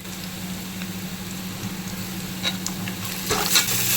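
Ginger garlic paste sizzles in hot oil with fried onions for chicken biryani in a pressure cooker, a steady close crackle with stirring scrapes that grow louder toward the end.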